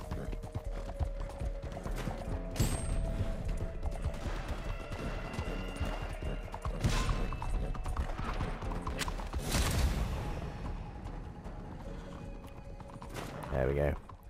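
Galloping hooves of a horse in a race in Red Dead Redemption 2 Online, rapid rhythmic clip-clop with a whinny and occasional game effects, as someone talks over it.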